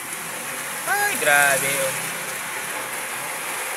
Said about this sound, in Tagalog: Saka naman bumuhos pa itong ulan na to